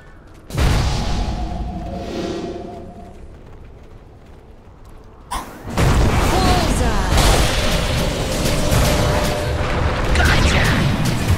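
Earthshaker casting Magnitude in the video game Dota 2: a deep booming rumble lands, fades, then a second heavier blast erupts into a long rolling roar.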